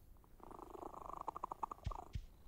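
A cat in the video game Undown purrs softly and steadily in close, quiet detail, with a couple of faint thumps near the end.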